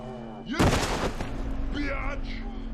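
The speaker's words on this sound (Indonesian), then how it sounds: "Ketika salah satu dari mereka keluar, regu militer langsung menembak dan membunuhnya." Gunfire from soldiers shooting at a creature in a film, a sharp loud burst of shots followed by a lingering rumble and faint background voices.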